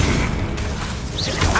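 A Confringo blast spell in Hogwarts Legacy, a short booming burst with whooshing magical effects amid dense combat noise, loud and close.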